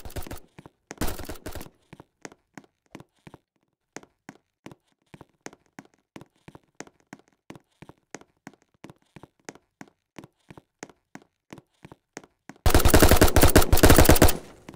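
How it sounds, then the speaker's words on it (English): Shots ring out in the Roblox game Prison Royale: a long run of evenly spaced single gunshots, fairly faint, framed by short loud automatic bursts at the start and a long loud sustained burst at the end. "I hear gunshots, that's not good."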